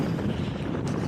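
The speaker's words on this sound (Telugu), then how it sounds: "బాందర్దార దగ్గర విండ్స్ అయితే హెవీగా ఉన్నాయి" Heavy wind at Bhandardara dam during the monsoon in Maharashtra roars as a constant, loud broadband rush buffeting the microphone, with no voices.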